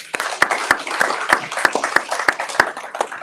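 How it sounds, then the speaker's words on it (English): Scattered applause from a small audience at a legislative agenda day event, individual claps standing out sharply in an uneven, moderately loud burst. "give yourselves a round of applause to get started"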